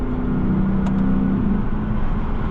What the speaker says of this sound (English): But man, obviously what steals the show in this is that V8.